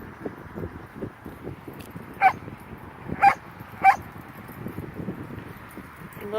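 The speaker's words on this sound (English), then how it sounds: "They're all over there barking at Rocky and Vinny." Several puppies bark in short bursts at a distance over a low background of rustle, scuffling and playful yips outdoors in summer.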